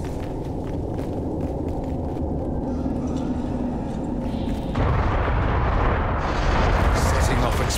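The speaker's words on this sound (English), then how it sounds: "Setting off explosions in an underground ruin." A deep, continuous roar of explosions in an underground ruin in the video game Dragon Age: Inquisition booms and crackles, growing louder partway through, with a heavy sustained rumble.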